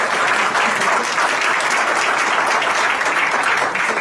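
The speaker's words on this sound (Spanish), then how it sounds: "Un aplauso para el doctor Quiles." An audience at a panel on Mexican biodiversity legislation applauds a speaker: steady, dense clapping fills the whole stretch at an even level, close and full, with no voices standing out.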